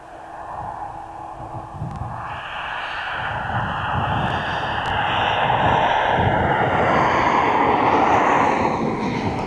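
A Boeing 737-300 jet, 34 years old, passes at an airport with a broad engine roar that swells steadily louder and stays strong to the end, heard alone without talk.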